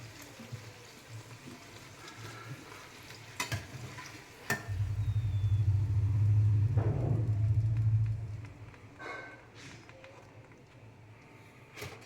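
A puri frying in very hot oil: after a few sharp utensil clicks, a loud, close sizzling rush swells for several seconds, then fades back to quiet kitchen clatter.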